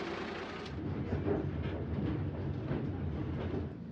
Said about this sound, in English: There we hopped on a charming old train that felt like it wasn't much faster than walking.